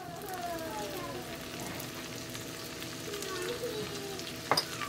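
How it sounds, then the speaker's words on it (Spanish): Chopped garlic fries gently in butter and oil at the start of a Mexican-style mushroom dish, a soft, even sizzle that runs throughout, ending with a quick utensil knock. "Vamos a dejarlo unos 30 segunditos para que el ajito se empiece a cocinar y empiece a soltar su saborcito aquí en la mantequilla y el aceite"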